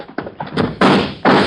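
Heavy door in a mine tower in a radio drama slamming shut several times, a run of loud close thuds and bangs building to two hard slams, with no talk over them.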